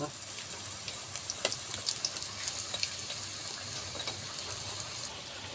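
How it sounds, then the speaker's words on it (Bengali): Bora fritters deep fry crisp in hot oil with a constant bubbling sizzle. Sharper crackles and spatters pop out near the middle. Everything sounds close and moderately loud. "আমাদের বড়া ভাজা হয়ে গিয়েছে সুন্দর মুচমুচি করে লাল লাল করে"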